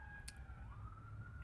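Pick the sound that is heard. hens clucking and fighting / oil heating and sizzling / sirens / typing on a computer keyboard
sirens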